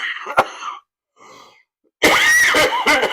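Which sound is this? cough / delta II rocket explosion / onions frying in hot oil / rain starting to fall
cough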